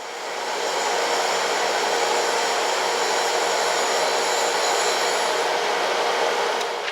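Surface grinder running in a shop with a clutch plate for a GasGas motorcycle magnetically clamped on its table, giving a loud, continuous, even whirring hiss throughout.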